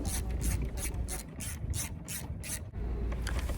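A ratchet tightens the mounting bolts of a ZL1 Addons wickerbill spoiler on a Dodge Charger Scat Pack, a run of about eight evenly spaced clicking pulls, close and moderately loud, with no talking.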